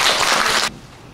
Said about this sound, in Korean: 여러분 큰 박수로 모셔주시기 바랍니다.